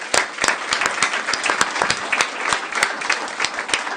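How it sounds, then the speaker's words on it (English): A room full of people at a county commissioners' court meeting applauds steadily for several seconds, with dense overlapping claps and a few sharper individual hand claps standing out. "So please give them a round of applause."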